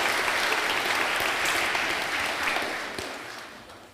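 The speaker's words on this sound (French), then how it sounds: "est-ce qu'on peut applaudir les enfants?" Church congregation at Mass applauding children, a dense, even burst of many hands clapping that holds steady and then slowly fades over a few seconds.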